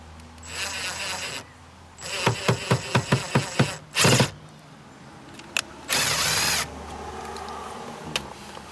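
A power drill works on sheet metal inside a Mazda Miata while fitting a speaker, running in short bursts with a rapid series of pulses and pauses between, close and fairly quiet.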